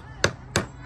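A hammer strikes twice at an even pace on wood while a bluebird house is being built, the sharp close knocks standing alone against a quiet room.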